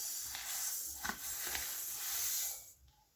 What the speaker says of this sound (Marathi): आता हे तीळ भाजून घेऊया।